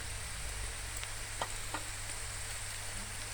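Light-brown onions and ginger fry quietly in a pan, giving a faint, even sizzle with a few soft scrapes of stirring.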